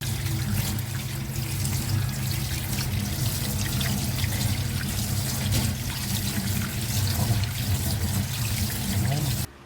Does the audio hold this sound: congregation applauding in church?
no